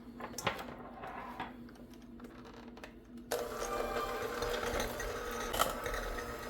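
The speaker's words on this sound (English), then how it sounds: "I'm going to use my hand mixer to mix it up." An electric hand mixer whirs in a bowl of mashed potato with milk, starting quietly with clicks, then running steadily louder after a switch-up partway through.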